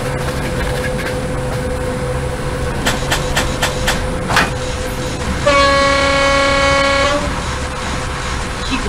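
A ChS7 electric locomotive hauling express train 741 from Moscow to Belgorod in ZDSimulator sounds one loud, sustained horn blast lasting under two seconds, over a constant rumble of running gear and a few sharp clicks beforehand.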